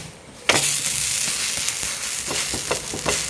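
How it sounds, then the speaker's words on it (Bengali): Gram flour batter with vegetables frying on a hot tawa gives a steady, close sizzle, broken by a few soft scraping knocks from a spatula. "এটাকে তাওয়ার মধ্যে একটুখানি হালকা মতো ভাজা করে নিতে হবে"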